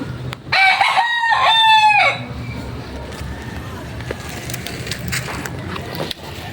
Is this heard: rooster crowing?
yes